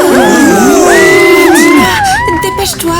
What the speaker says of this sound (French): Et maintenant, applaudissez notre groupe junior qui va danser sur de la K-pop